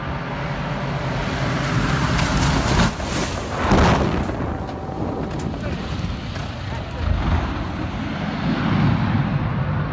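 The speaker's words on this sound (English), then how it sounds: "Did you see the way the wheel just flew right off that plane? That did not seem like a smooth landing whatsoever." An airplane makes a rough landing in Buckland, Alaska, and a wheel flies off. A loud, continuous engine and rumbling roar is broken by a heavy thud near the middle.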